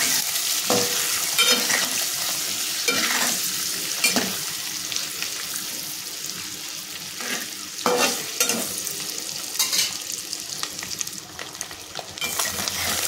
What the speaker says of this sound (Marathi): थोडा मसाला आणि हळद हे टाकून आपल्याला ते फ्राय करून घ्यायचे अंडी व्यवस्थित।